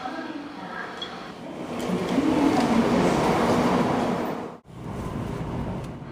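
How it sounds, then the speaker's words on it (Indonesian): A Shinkansen bullet train at Shinagawa station in Japan, a steady rushing rail rumble that swells and holds, then drops out abruptly for a moment before resuming. "Kita akan berangkat dari stasiun Shinagawa naik kereta api Shinkansen menuju Kokura"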